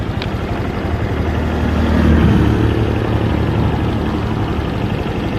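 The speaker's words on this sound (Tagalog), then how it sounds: "i-sound check naman natin ang motor." A steady low engine rumble from a stock Honda Click 125 v2 scooter with over 80,000 km idles continuously, swelling slightly midway, with no voices over it.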